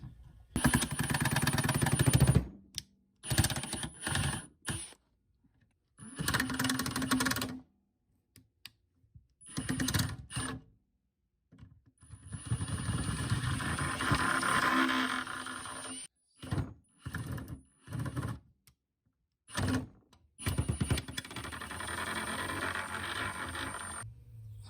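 A power drill bores a hole into a BMW M52 intake manifold on an E30 turbo build, running in repeated short bursts of whirring with silent pauses between them, close and fairly quiet.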